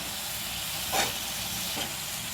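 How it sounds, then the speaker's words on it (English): Coriander mint chutney mixture stirred in a hot pan, a steady close sizzle with a couple of brief louder scrapes of stirring. "You need to constantly stir the mixture, and you please ensure that it doesn't get burnt"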